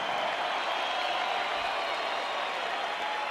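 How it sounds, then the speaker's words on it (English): Steady crowd applause for two boxers in a Las Vegas ring after their fight, a dense continuous wash of clapping from a large arena audience. "a round of applause for these two warriors in the ring"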